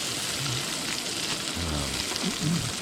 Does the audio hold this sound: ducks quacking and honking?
no